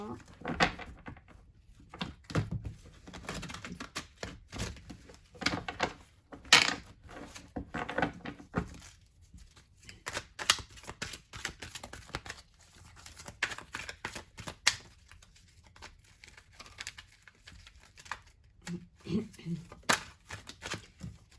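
Tarot cards being shuffled by hand, repeated soft riffling and flicking bursts at close range, heard under intermittent talking throughout.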